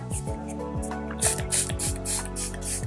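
Several quick bursts of fine mist from Smashbox Photo Finish setting spray, repeated in a loose rhythm over a background of low mechanical clicking.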